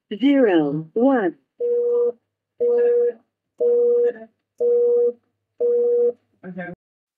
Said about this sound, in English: now I'm dialing into the 6501 call queue and login code is 1